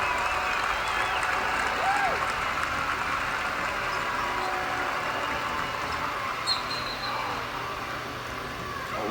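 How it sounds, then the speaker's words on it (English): A basketball arena crowd at Stanford at Wake Forest keeps up a steady, moderate roar of cheering and murmur throughout, with faint whistles and scattered shouts mixed in. "Crowd getting into it a little bit."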